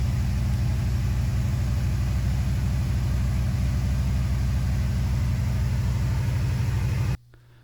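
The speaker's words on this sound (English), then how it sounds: "Now let's go start the car and see what happens." A 1984 Corvette with a newly replaced throttle position sensor idles with a steady, close, low rumbling pulse that holds evenly for about seven seconds before cutting off abruptly.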